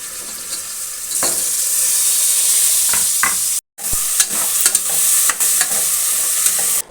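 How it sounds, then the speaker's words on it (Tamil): Onion and mushrooms fry in a pan for mushroom biryani, a steady close sizzle with repeated scraping stirs of a spoon, briefly cut off midway before the sizzling and stirring resume. "ஆனியன் நல்லா ஃப்ரைட் ஆனோடனே அது கூட நான் மஷ்ரூம் ஆட் பண்ணிட்டேன்."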